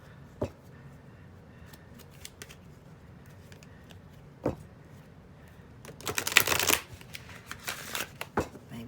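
A tarot deck is split in half and riffle-shuffled by hand. A few sharp card taps come first, then a dense burst of fluttering, riffling cards, followed by scattered clicks as the halves are squared up.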